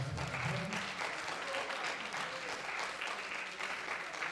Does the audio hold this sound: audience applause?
yes